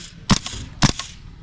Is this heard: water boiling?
no